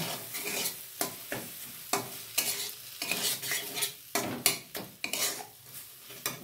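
Kabuli chana masala being stirred and sautéed in a pan, with a close, lively sizzle and repeated scraping strokes of a spoon against the metal pan.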